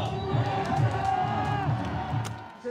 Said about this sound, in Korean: 여러분 크게 함성 질러주시기 바랍니다